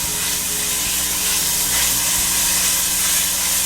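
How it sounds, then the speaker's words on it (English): Pancetta sizzles in a hot buttered pan, a loud, steady, dense hiss of frying that holds constant throughout with no voices. "So I'm gonna throw the pancetta in there."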